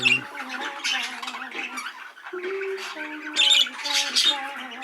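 Several hen budgerigars squawking and chattering close by in a birdroom, a busy overlapping flock of harsh chirps and calls with no speech.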